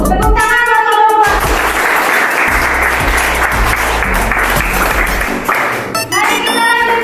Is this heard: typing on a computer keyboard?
no